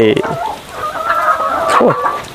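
Egg-laying hens on a small Thai farm cluck close by, a short burst of loud rising and falling clucks and squawks from several birds.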